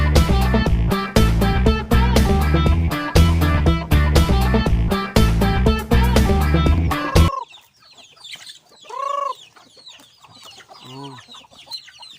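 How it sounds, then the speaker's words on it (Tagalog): Chickens and chicks clucking and peeping, loud music dominating the first seven seconds before the birds are heard alone, close and intermittent. "Ilagay ang mga sisiw nating mga manok."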